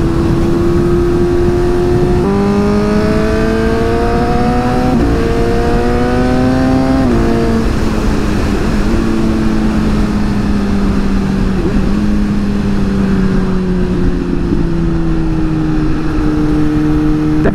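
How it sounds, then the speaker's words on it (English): Suzuki GSX-S750 motorcycle with the exhaust baffle removed, revving loudly and continuously up and down through several throttle blips before settling into a steady drone, with no talking. "Definitely sounds better with the baffle out,"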